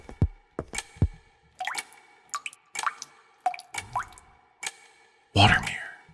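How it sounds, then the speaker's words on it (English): Repeated watery drips and plops from a rippling water mirror in the video game Pocket Mirror, spaced irregularly and closing with a louder splashy burst. "It's moving like water. And it made drippy sounds."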